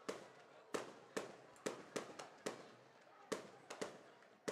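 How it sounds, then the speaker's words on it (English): Fireworks burst at a high school football game, about ten sharp booming cracks in an irregular series, each echoing and fading, heard from a distance over crowd ambience. "Nice fireworks show here."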